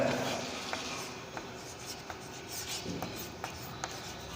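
Chalk or marker on a classroom board during a Class 11 physics lesson, with a steady low room hiss and a series of soft, scattered scratches and taps. No one speaks.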